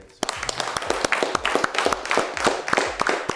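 An audience claps for a presenter at a French talk, a clear run of sharp, evenly spaced hand claps starting abruptly and continuing loud and close throughout.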